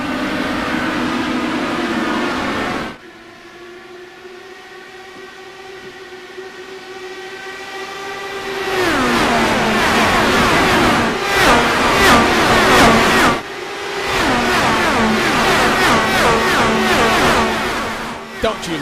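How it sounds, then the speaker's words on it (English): A Dallara IR18 IndyCar at full power in a racing game at Pocono: a loud, high engine whine climbs through the gears with pitch drops at each upshift, fades away briefly, then returns with steady howling, and a voice talks over it. "Don't you love the sound of a Dallara IR18 turned up to the max?"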